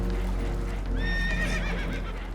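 Spooked horses in Red Dead Redemption 2 give a shrill whinny over a steady low rumble, with a few hoof clops on a boat deck.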